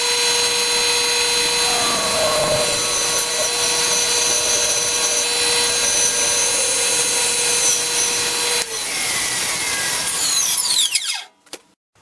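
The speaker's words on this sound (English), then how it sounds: "So if I hold it here, I can just follow the glue line into the blade and split it." A power saw blade splitting a wooden blank for a nutcracker's feet along its glue line, a loud steady high whine with shifting tones as the cut progresses, cutting off abruptly at the end.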